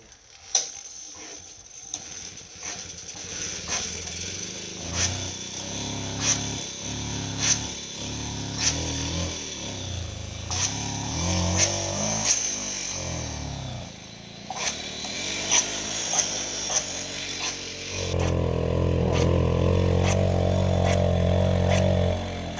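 Repeated pedal-start attempts on a two-stroke engine with the choke held, giving a run of mechanical ratcheting clicks and pedal strokes that never catch, ending in a steadier, louder mechanical whir; no talk.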